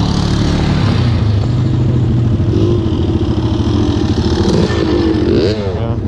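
A trail bike approaches on a Colorado off-road trail, its engine droning loudly and steadily over another idling motor, with the pitch rising as it revs near the end.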